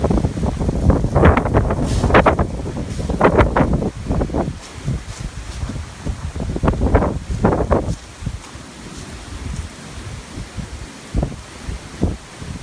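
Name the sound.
strong wind blowing outdoors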